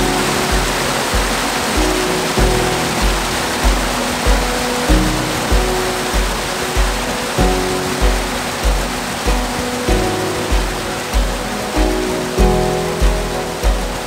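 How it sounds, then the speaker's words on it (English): Loud, steady rush of water like a waterfall or torrent, with a rhythmic low thumping pulse underneath throughout. "the sound of the water is pretty loud"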